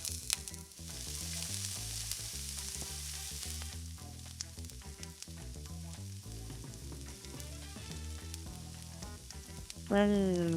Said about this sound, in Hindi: सबसे पहले I'm going to toss in some almonds.